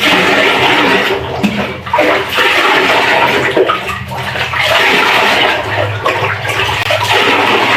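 Loud running and splashing hot water close by, continuous with sloshing bursts, like a small child being bathed under a flowing tap.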